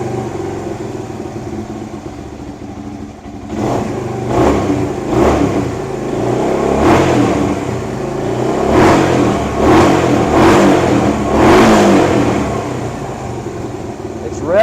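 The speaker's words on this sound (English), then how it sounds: "revving a lot better than what it did yesterday" A 1978 Kawasaki KL250 motorcycle engine idles unevenly, then is blipped through a string of sharp revs that rise and fall, loud and close, with a quiet voice at the start.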